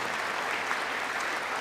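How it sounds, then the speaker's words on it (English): A large audience at the State of the Union address claps in a dense, continuous burst of applause that stays even and loud throughout. "Ossoff is clapping."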